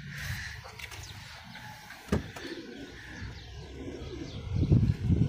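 Two pigeons coo nearby, their low throaty calls coming in soft rolls that swell louder toward the end, with faint rustles and a single knock in the background.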